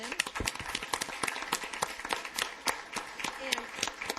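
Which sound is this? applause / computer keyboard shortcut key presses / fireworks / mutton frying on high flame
applause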